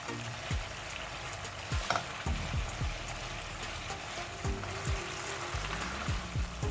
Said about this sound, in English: we are going to fry this until there are no moistures in.